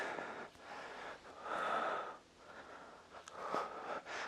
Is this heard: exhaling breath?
yes